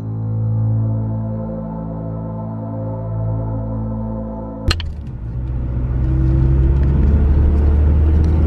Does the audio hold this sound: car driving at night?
yes